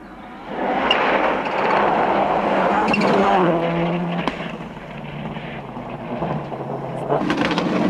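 A rally car at the 2002 Rally of the Lakes in Ireland races flat out on a stage, its engine howling loud and close, dipping briefly, then revving hard again as it passes.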